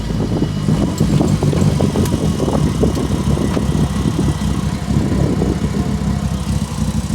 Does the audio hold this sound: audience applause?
no